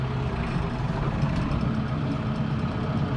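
A Kubota M7060 tractor runs with its PTO engaged, a steady low diesel drone at idle that stays even and close throughout, with no talking.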